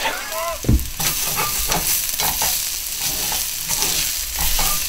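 Vegetables for jalapeno and onion stuffed pork loin chops sizzle steadily in a pan, with a spoon or spatula scraping and stirring in irregular strokes, close and fairly loud, with a brief rising voice-like squeak near the start.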